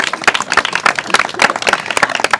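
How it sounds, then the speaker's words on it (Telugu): Loud applause from a crowd at a rice auction, dense rapid clapping close up and continuous for a couple of seconds with no voices standing out. "చప్పట్లు గట్టిగా ఒకసారి"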